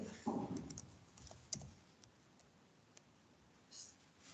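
Typing on a computer keyboard to enter a name and password: soft, scattered key clicks spread through the clip, quiet and close, with a brief muffled thump near the start and low room hiss.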